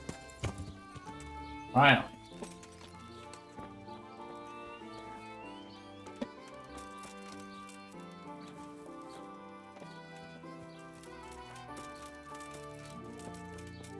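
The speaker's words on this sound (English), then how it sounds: "Horses are back!" Horse hooves clip-clop in the medieval open-world game Kingdom Come: Deliverance, quiet and steady beneath layered orchestral music, with a single short spoken word near the start.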